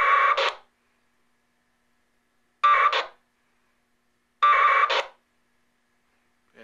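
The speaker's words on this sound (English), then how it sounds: "And now it's keying up the radio and the packet modem." A VHF radio and packet modem key up and transmit email data in three short, harsh buzzing bursts separated by silence, crisp and close.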